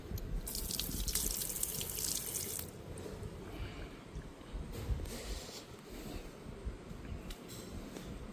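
Water pours steadily from a tap at a gurdwara hand-washing area, a close hiss that is loudest at the start and then settles into a softer, continuous flow.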